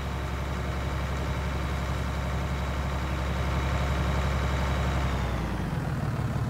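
A tractor engine in Farming Simulator 2019 drones steadily at high revs, loud and constant, then its pitch sags slightly near the end, with no talking.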